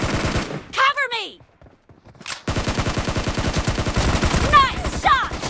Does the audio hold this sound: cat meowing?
no